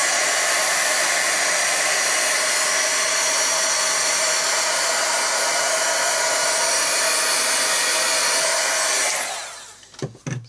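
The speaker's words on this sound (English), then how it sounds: "if I put my heat gun on" Heat gun blowing hot air across a paint-soaked art journal page, a steady loud broadband roar running about nine seconds before cutting off, followed by a few faint handling sounds.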